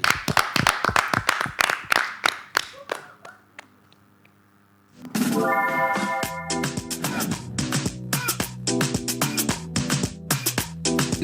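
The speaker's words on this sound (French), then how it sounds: "On applaudit pour vous et générique." Birthday clapping on a French-language midday radio show: a run of sharp, rhythmic hand claps that fades to near quiet, then music swells in loudly.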